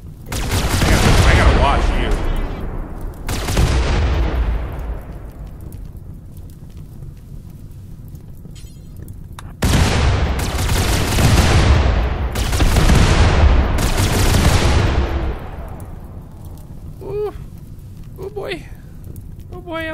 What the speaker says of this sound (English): So many explosions. I don't like all these explosions.